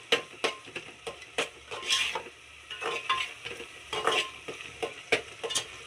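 A spoon or spatula stirs fish curry in a hot pan: rapid, close scraping and clattering strokes over a light, continuous sizzle, with no talking.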